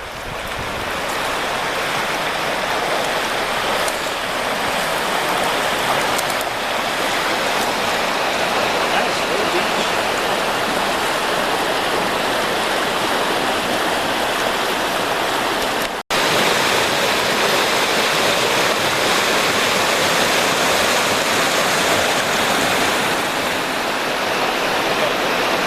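Sullivan Creek rushes steadily past a wooded bank, a loud, continuous broadband wash of flowing water that barely changes, with one brief dropout partway through.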